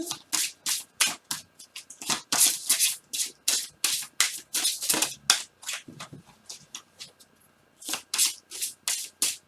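Oracle cards are shuffled by hand for a reading, giving rapid repeated riffling bursts in quick rhythm with a brief pause near the end. The sound is close and crisp, with no talk.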